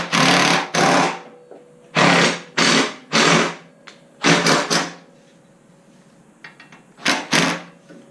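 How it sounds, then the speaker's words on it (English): Power tool driving a bolt into the black rear support of a 2017 Street Glide motorcycle, several loud whirring bursts of about half a second each, separated by short pauses, close up with no talking. "Just to thread it in, and I'm going to drive it."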